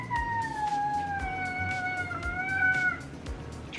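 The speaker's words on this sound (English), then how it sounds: "That was a long meow creature." A cat lets out one long, drawn-out meow, rising and wavering for about two seconds before trailing off, close by in a kitchen with faint clatter in the background.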